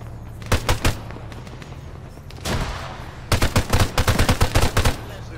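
Gunfire in the military shooter Arma 3, with loud bursts of automatic rifle and machine-gun shots, close and sharp, coming in rapid clusters with short pauses between volleys and a steady low hum underneath.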